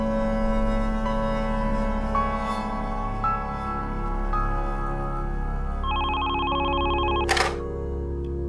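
Telephone in a domestic drama scene rings with repeated electronic trills, ending in a sharp click as it is answered, over quiet room tone.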